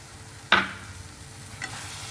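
A spoon stirs green peas into a cooking masala of boiled fenugreek for methi malai matar: one sharp scrape at half a second, a softer one later, over a low steady sizzle.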